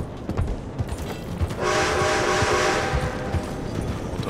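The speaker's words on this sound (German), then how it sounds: "Da ist jetzt auch noch ein Zug." A passing train in Red Dead Redemption 2, rising into a steady loud rumble with a sustained horn-like tone for about a second before easing off, heard alone without voices.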